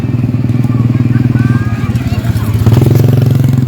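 Mini trail motorcycles rented out for kids' rides, a small engine putters loudly and close in a rapid pulsing rhythm, with a voice and crowd chatter mixed in.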